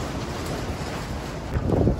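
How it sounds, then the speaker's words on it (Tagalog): Strong wind on a farm in Kuwait, roaring and buffeting directly against the microphone in low rumbling gusts that swell louder toward the end of the short stretch. "Sobrang lakas ng hangin."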